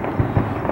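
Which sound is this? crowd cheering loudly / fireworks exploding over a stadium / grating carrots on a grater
fireworks exploding over a stadium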